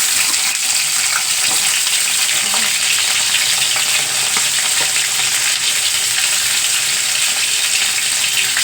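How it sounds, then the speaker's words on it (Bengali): Pointed gourd (potol) frying lightly in oil in a pan for a hotel-style doi potol, a steady, loud, close sizzle continuing without a break. "পটলগুলো একটু হালকা ভেজে নিই"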